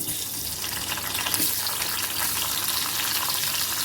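Tomatoes frying in hot oil in a kadhai, a steady broadband sizzle with watery crackle that holds close and even throughout, with no talking.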